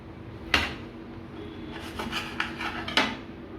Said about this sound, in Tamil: இப்போ நமக்கு இது எந்த சைஸ் தேவையோ அந்த சைஸில் கட் பண்ணி எடுத்துக்கலாம்.